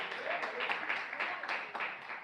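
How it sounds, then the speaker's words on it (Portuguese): A church congregation applauds during a Portuguese-language sermon, a dense, steady wash of clapping with small surges, sustained through the whole short stretch without anyone speaking. "Palmas de vitória para Jesus de Nazaré."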